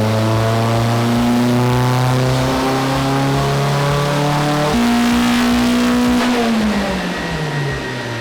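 Toyota Corolla engine revving hard on a dyno, loud and close, the pitch climbing steadily before dropping off near the end as the throttle lifts, with no speech.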